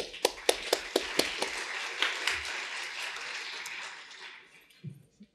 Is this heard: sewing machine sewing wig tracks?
no